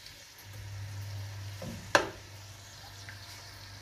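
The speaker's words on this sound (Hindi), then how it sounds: "प्याज को हमने ब्राउन करना है आज सब्ज़ी के लिए" Onions browning in a pan for a mixed vegetable curry give a soft, steady sizzle, with a single sharp clink of a utensil against the pan partway through.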